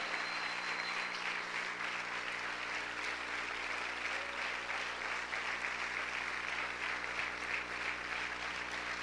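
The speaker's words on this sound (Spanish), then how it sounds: "Siga aplaudiendo, siga aplaudiendo." A church congregation claps steadily and continuously throughout, a broad wash of hands sounding somewhat distant and even, with a faint hum beneath.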